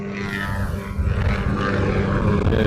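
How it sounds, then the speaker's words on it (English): A Hawaiian Airlines airliner rolls toward the reef runway at Honolulu airport, bound for Maui, with a steady broadband engine roar at some distance that swells slightly partway through. "We also have a Hawaiian heading out to the reef runway that is heading off to Maui."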